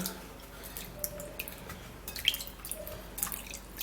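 An apple is washed under running water at a sink. Quiet, irregular drips and small splashes patter close by for a few seconds.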